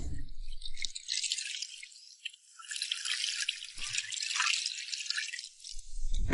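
Spring water, about two and a half jin, pours into a pot for a spicy pot chicken hot-pot base, a steady close splashing trickle that runs without a break and stops near the end.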